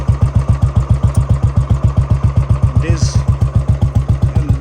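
A Royal Enfield Bullet motorcycle engine runs close by with a loud, steady thumping pulse at a regular rapid rhythm, briefly overlaid by a faint passing sound midway.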